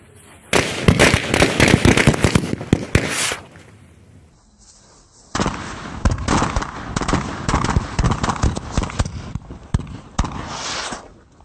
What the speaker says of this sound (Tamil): ஓகே வெடிக்க போகுது பாரு.